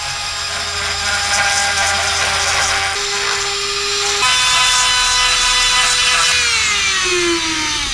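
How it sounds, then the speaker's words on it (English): A Dremel rotary tool cuts a shape for a kayak motor throttle switch extension, a loud high whine that holds steady, dips in pitch when loaded, and steps up and down over several seconds. "I'm going to Dremel that out"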